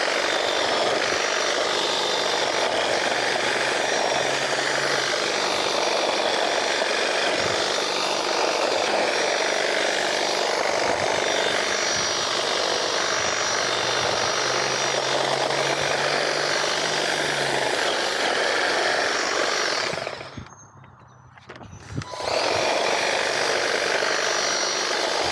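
A Toro 60V MAX Flex-Force cordless trimmer cuts through finger-sized branches, its motor buzzing loudly and continuously, dipping briefly as it pauses before resuming.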